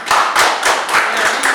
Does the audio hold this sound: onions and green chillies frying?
no